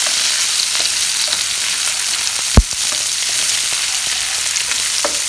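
Garlic, chilies and julienned ginger fry in hot oil for an Indian bhindi do pyaza, giving a steady close sizzle with scattered faint crackles and one sharp utensil knock midway.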